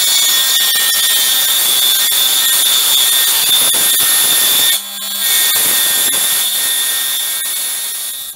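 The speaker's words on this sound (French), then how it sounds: "Et puis on va scier tout le long." A power saw, apparently a table saw, rips along a wooden plank with a loud steady high whine that drops briefly near the middle of the cut, then resumes and fades at the end.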